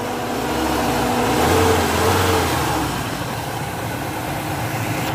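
A 2000 Fiat Siena car engine running close up, a steady mid-pitched hum that rises briefly as if revved, then settles back to an even idle.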